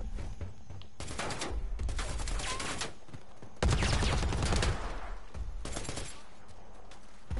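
Bursts of automatic gunfire from Predator: Hunting Grounds as a player shoots at an enemy in a camp, with dense volleys across the clip that grow loudest in the middle stretch.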